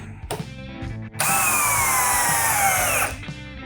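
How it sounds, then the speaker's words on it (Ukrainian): A Procraft Industrial CD20B cordless drill driver in turbo mode at second speed revs up after a couple of short clicks and holds a loud, steady high whine for about two seconds before stopping. "Тепер перемикаємо на турбо. Друга швидкість."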